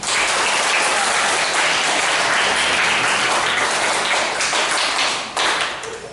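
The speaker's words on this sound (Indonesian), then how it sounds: "Tepuk tangan semua." A room full of people applauds loudly and steadily for several seconds, the clapping thinning slightly at the end.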